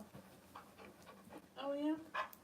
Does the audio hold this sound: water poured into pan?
no